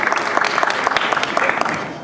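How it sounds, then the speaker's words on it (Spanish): An audience at an evening talk on protecting children and young people from modern ideologies gives a loud, close round of welcoming applause for a doctor. Individual claps stand out sharply within the patter, and there is faint crowd murmur. "le damos un cariñoso aplauso de bienvenida también al doctor"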